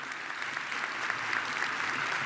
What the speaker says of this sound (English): You deserve a big round of applause for your excellent work